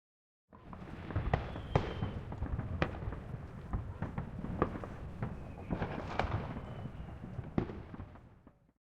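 Fireworks in the video game Love and Deepspace: a continuous run of crackling pops and bangs over about eight seconds, dense and fairly loud, fading in and out at the edges.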